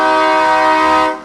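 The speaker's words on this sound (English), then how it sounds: "And a loud horn. Sounds like the trains that come through Kannapolis." A big truck pulling a trailer in a Christmas parade in Kannapolis blasts a loud, train-like air horn, one steady chord held about a second before it cuts off.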